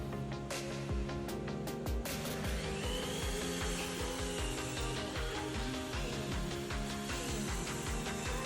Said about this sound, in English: Mike and Dylan then attached the blocks with screws to each edge of the desk